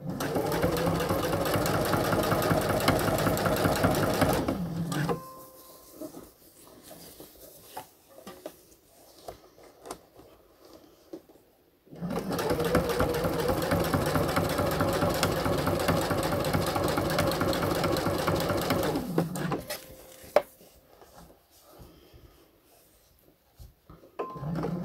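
Domestic sewing machine stitching the underwire channel of a bikini, running in two long steady bursts of rapid mechanical whirring, each stopping abruptly into near silence.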